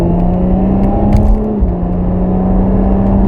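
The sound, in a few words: Subaru Impreza hatchback car driving past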